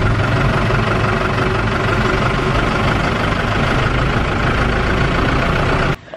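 A school van's engine runs steadily near a village road, a loud, continuous rumbling idle that holds for about six seconds before stopping abruptly.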